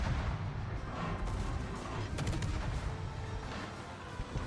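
Warship guns firing in a World of Warships naval battle, heard as a dense, continuous rumble of heavy booms and crashes that stays loud throughout, with no clear pauses between shots.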